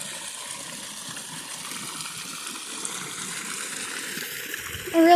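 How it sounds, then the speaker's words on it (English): Water runs at a small waterfall in a Japanese peace garden in Moses Lake, Washington, making a continuous soft splashing and trickling wash, with a brief sharper sound at the very end. "That's where the waterfall's coming from."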